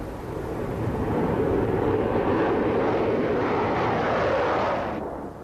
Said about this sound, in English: The takeoff was smooth, and the Tu-144 became airborne without incident.